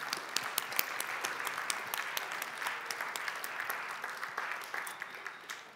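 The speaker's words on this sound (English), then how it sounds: "give yourself a big round of applause for taking part in this and collaborating" Applause from a youth conference audience, fairly faint, with sparse individual claps standing out from a steady wash of clapping.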